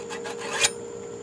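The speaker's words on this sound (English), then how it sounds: "Get your putty knife in here, in between the Velcro strip, and you just work down that strip." A putty knife scrapes along a Velcro strip behind Ramco mirror glass, giving soft rubbing strokes and one sharper rasp close by.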